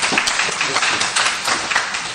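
An audience at a World Bank business panel breaks into sustained, even applause, a dense crackling wash of many hands clapping close and loud.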